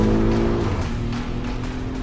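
A 2020 BMW X6 with all-wheel drive is heard driving hard through a corner, with a continuous engine drone that shifts in pitch and some tyre and road noise, close and steady.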